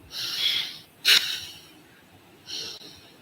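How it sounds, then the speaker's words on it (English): Three short, forceful breaths are pushed out through the nose, near and breathy, spaced about a second apart with the middle one sharpest. "we will breathe in and then 3 short breaths, forcefully breathing out"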